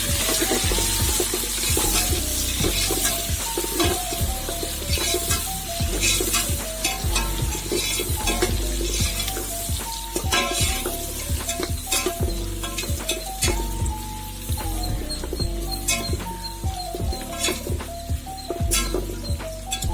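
Sliced onions frying in oil for a pressure-cooker mutton biryani, loud and close, a constant sizzle with frequent rapid spatula scrapes and clinks against the pot throughout, no voices.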